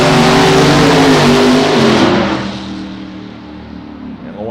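Drag race car in a Tex 275 small-tire class launching off the starting line, a loud engine roar that holds hard then fades quickly as the car pulls away into the distance.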